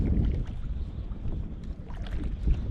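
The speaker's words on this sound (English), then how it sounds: "Trying not to flip out of my kayak here. Still is pretty choppy." Kayak drifting on choppy water of Saginaw Bay with a shifting west wind, a steady broadband wash of wind buffeting and water lapping around the hull, close and continuous with no talking.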